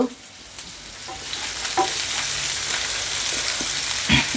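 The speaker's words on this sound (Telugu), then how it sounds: "పచ్చిమిర్చి వేసిన వెంటనే మనము ఈ ఆనియన్స్ వేసేద్దాం, ఎర్రగడ్డలు." Green chillies and onions frying on a non-stick tawa, with a steady soft sizzle throughout and occasional stirring scrapes and taps, close up and without talk.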